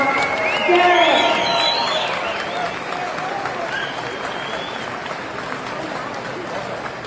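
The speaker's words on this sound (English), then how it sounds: "Please welcome him to the stage with a big round of applause." An audience at an evening event applauds and cheers as the MC is welcomed to the stage, loud at first with whoops and shouts, then tapering to steady clapping with some voices mixed in.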